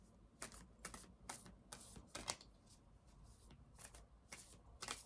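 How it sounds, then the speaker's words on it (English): Tarot cards are shuffled and drawn from a deck at close range, giving a series of soft, quick riffling and flicking bursts at an uneven rhythm. "I'm going to pull another card from this deck"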